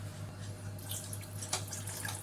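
Two tumblers of water stream and splash into a cooking pot for vegetable biryani, a soft steady pour over a low electrical hum.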